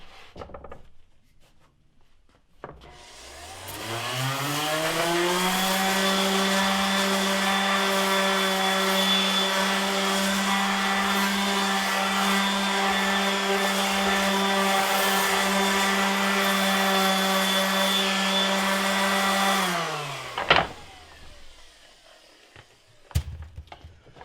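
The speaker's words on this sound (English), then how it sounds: "now that we have the finish sanding done on the frames that we assembled yesterday" A power sander on wooden snowshoe frames spins up into a steady loud whine with a strong buzzing hum, runs evenly for about sixteen seconds, then winds down. A couple of knocks follow.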